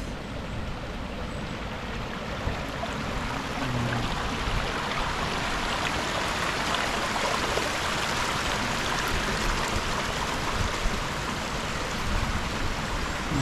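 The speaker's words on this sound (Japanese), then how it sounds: "水音がいいですね" A stream rushes and burbles continuously at a skunk cabbage garden, a steady broadband wash that stays even throughout with no voices.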